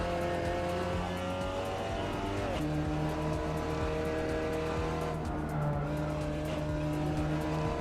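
Race car in the sim racing game Assetto Corsa at Bathurst, its engine droning loudly and steadily with tire squeal and skidding layered over it, the pitch shifting as it slides through a corner.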